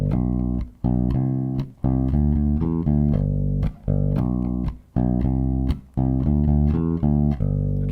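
Bass guitar plucked close to the bridge, producing a bright, punchy, mid-heavy tone; phrases of repeated notes play alone, loud and close, separated by short pauses.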